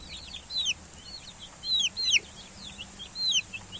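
Chickens clucking nearby among young chicks feeding on seeds, short squeaky peeps and clucks in scattered bursts over a low farmyard background.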